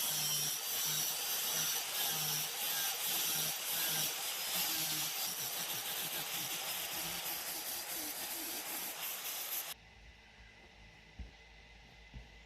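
A flap disc grinds across the roof of a wasteland-style build vehicle, a steady, loud abrasive rasp and hiss that runs without a break before cutting off, leaving a quieter background with a couple of knocks.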